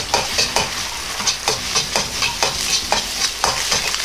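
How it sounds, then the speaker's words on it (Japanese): Egg and rice stir-fry in a wok over full heat, giving loud, continuous sizzling with rhythmic scraping and tossing bursts roughly every half second, close up and without talk. "卵を少しかき混ぜご飯を入れます。"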